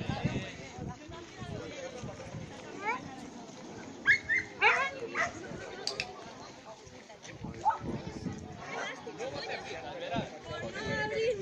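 A dog at an agility jumping session barks and whimpers excitedly, with short yips and whines rising through the middle, under near continuous conversation from people close by.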